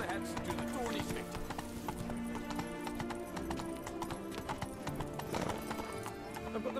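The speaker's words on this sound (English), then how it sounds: "Come on, Roach" Galloping horse hooves in The Witcher 3: Wild Hunt, Blood and Wine, a steady rapid clip-clop with occasional whinnies over game music, while someone speaks to his mount.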